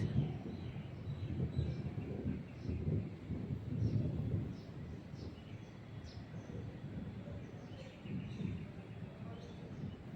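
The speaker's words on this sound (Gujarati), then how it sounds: "અવાજ આવે છે ગાજાનો" Thunder rolls as a low, distant rumble under dark storm clouds, swelling and fading over several seconds. Faint bird chirps come through in the background.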